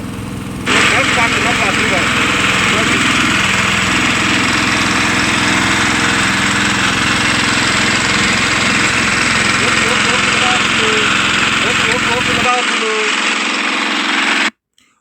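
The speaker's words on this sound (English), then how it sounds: "Now the drilling process is on." A loud, steady engine-powered ground drill drones continuously at close range while boring into soil for earthing, with a rough mechanical rattle, then cuts off abruptly near the end.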